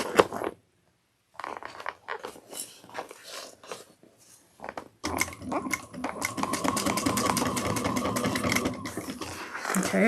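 A sewing machine stitches a seam on a crossbody bag, starting with short hesitant runs and fabric handling, then running in a steady, continuous close whir for the last half.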